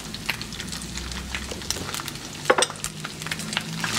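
Onion, ham, bacon and chicken stirred in a pan for Christmas rice, soft sizzling with intermittent scraping and clinking taps from the stirring, a sharper cluster of knocks midway.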